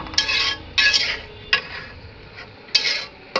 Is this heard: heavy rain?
no